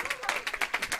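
A small crowd at an outdoor science show in Carbonia breaks into brief applause, distinct claps landing in quick uneven bursts over roughly a second, with some voices mixed in.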